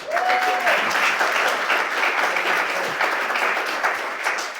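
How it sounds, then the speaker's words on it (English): A conference audience delivers a full, steady round of applause, dense overlapping clapping held at an even level throughout and fairly close, with a faint voice briefly audible near the start. "give a resounding round of applause to our creator of Supe Tank, Dr. Tim Bear"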